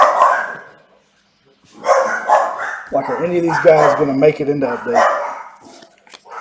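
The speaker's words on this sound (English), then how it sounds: "Sorry for the dogs again." Several dogs bark repeatedly close by in a home, with overlapping yips that run under someone talking.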